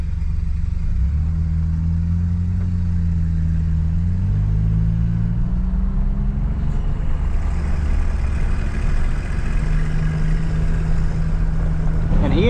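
A Chevy truck creeps slowly into a farm building, its engine a steady low rumble throughout, with harmonics rising and falling as it moves, ending with a brief brighter noise near the close.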